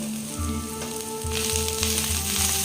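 Carrot, beans, cabbage and yellow and red bell peppers sizzling in a pan for chow, a close, bright, continuous hiss that swells louder partway through, with no voices.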